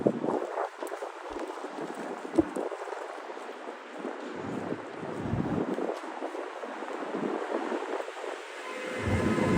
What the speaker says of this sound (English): There's that wind. There's always a little wind tunnel right here.